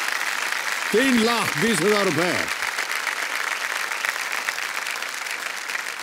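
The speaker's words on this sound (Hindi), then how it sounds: "ताली बज जाए जोर से." Studio audience applause on a televised quiz show after a contestant wins a cash prize, continuous dense clapping throughout while someone speaks briefly over it near the start.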